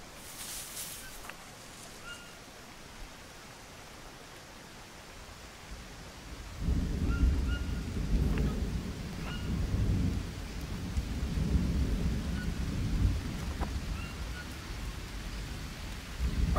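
Heavy rain falls through a thunderstorm in the jungle survival game Green Hell, a steady hiss of rain that swells into a deep, rolling thunder rumble about halfway through and stays loud.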